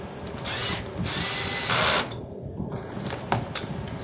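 A power drill with a clutch tightens tensioning bolts on a battery pack, whirring in short close bursts with a brief louder spin and small mechanical clicks between runs.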